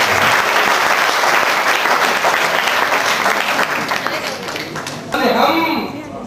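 A mushaira audience at the University of Hyderabad Urdu department breaks into dense, loud applause welcoming a poet, the clapping easing off before a voice begins speaking over the last moments.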